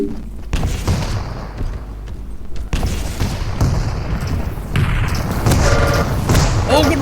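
Heavy booming rocket explosions and thuds from an arena shooter duel, several blasts in quick succession amid game action, loud and close, with a commentator's voice running over parts of it.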